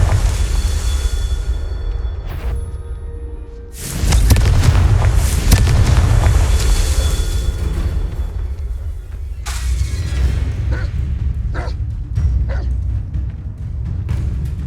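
Loud, rumbling blasts from the Confringo fire curse in Hogwarts Legacy, a sharp impact followed by a sustained roaring burst and scattered cracking debris, with further booming hits trailing off over the following seconds.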